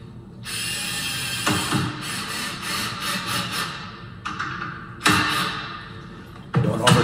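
Screws from a replacement deadbolt kit are driven into a door with a power drill, making bursts of whirring and ratcheting that stop and restart several times, close and fairly loud.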